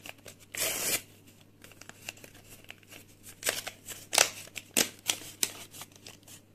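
A small paper packet torn open and crinkled by hand, close-up bursts of tearing and rustling paper with quiet pauses between them and no talk.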